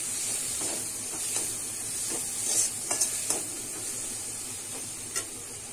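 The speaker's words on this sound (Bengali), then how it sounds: "এবারে কিন্তু সেদ্ধ করা মাছটা দিয়ে দিচ্ছি। ভালো করে কিন্তু মিশিয়ে নেব।" Boiled bhetki fish stirred and mixed in a pan, a soft steady sizzle with scattered scraping taps of the spatula, close and fairly quiet, no talking.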